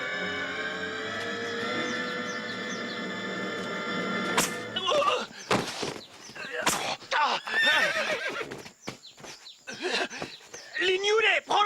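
A horse whinnies loudly and at length close by. Shouting voices, hoofbeats and scuffling action follow in a hectic film scene.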